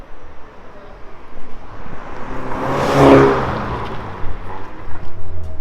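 A BMW G22 420 with a performance exhaust revs up to a loud peak and falls away, its deep exhaust roar swelling then fading, with some background noise around it.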